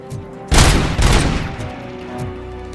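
Sniper gunfire in the Robocop Rogue City video game rings out as two loud, close shots about half a second apart, each trailing off into a rumbling echo.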